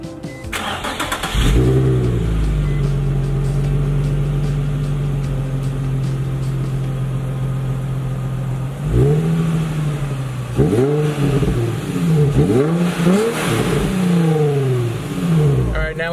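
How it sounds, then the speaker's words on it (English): A Nissan 350Z sports car engine starts and settles into a deep idle, then the exhaust barks through several sharp revs that rise and fall, loud and close. "All right, Jordan, let's hear those exhaust notes."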